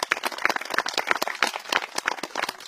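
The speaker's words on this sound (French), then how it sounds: "on peut les applaudir aussi bien fort" Audience applause at a twentieth-anniversary celebration of an archery club's range, a steady patter of many hands clapping that carries on for the length of the clip, fairly close and alone without talk.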